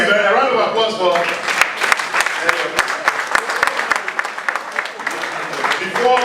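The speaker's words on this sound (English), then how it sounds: "A round of applause for" Applause fills a room at a power-sector policy dialogue, with sharp individual claps standing out as a voice speaks over the start and the clapping carries on throughout.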